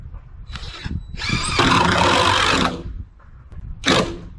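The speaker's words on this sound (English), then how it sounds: "Now, see how well it drills into fiberglass." A power drill bores into fiberglass in short, whining bursts with brief pauses between them, loud and close, with a final high-pitched spurt.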